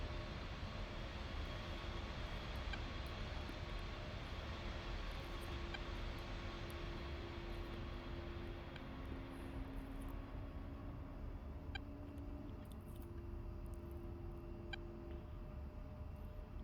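Twin jet engines of an A-10C running in the DCS flight simulator give a steady droning roar with faint sustained whining tones and occasional small clicks, continuous and without talk.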